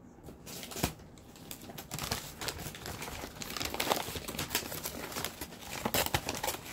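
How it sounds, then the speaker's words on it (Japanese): Wrapping paper is ripped and crinkled off a mailed summer gift package, close up, in a run of sharp rustling tears and crackles that grow busier toward the end, with no talking. "包装紙はちょっとベリベリってやらしてもらおう"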